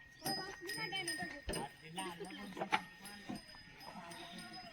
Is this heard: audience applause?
no